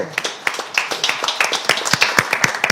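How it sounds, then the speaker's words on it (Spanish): A small audience at a panel debate on rural women and demographic revitalization in Castilla y León claps for the women panelists, steady close hand claps in a brisk, uneven patter. "yo de verdad un aplauso para todas vosotras"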